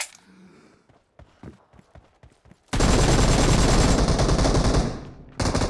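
Sustained automatic gunfire erupts loud and continuous in a BGMI team deathmatch, following a few sparse single shots and footsteps, then cuts off briefly before resuming.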